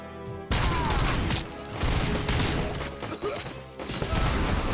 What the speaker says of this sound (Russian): Ну, сам себя взорвал, красавчик